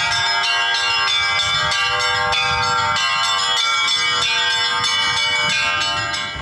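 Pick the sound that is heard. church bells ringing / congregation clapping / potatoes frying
church bells ringing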